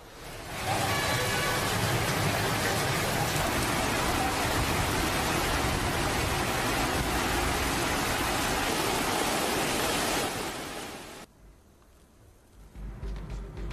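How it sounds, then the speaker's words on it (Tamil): Heavy rain pours for over an hour, with rainwater overflowing and running along the roads; a loud, dense, steady roar fills most of the clip, then drops off abruptly near the end. "ஒரு மணி நேரத்திற்கு மேலாக கனமழை கொட்டி தீர்த்தது. இதனால் சாலைகளில் மழைநீர் பெருக்கெடுத்து ஓடியது."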